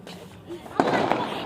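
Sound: fireworks going off

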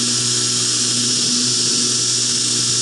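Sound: belt grinder grinding a knife blade

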